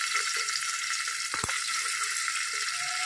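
Green chilies and onion sizzle in hot oil in a home kitchen pan, a steady close frying hiss with a couple of brief knocks, no voices.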